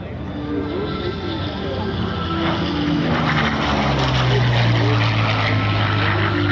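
A P-38 Lightning twin-engine propeller fighter makes a flyby at the Columbus air show. A loud, sustained engine drone with a whining propeller tone rises and slides lower in pitch as the plane passes close.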